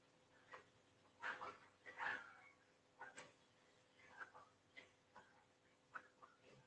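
A neighbor's dogs bark and yip somewhere off at a distance, a few faint, scattered barks with short gaps between them under a quiet indoor background.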